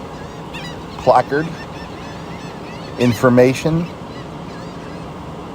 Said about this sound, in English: the black skimmers are back here at Rockport Beach